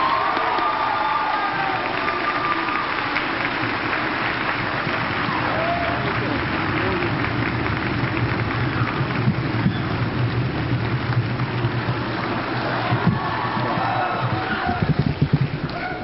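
A crowd at a high school graduation ceremony keeps up sustained clapping and cheering for well over ten seconds, a broad steady wash of sound heard from within the audience, with scattered shouts and a sharper flurry toward the end.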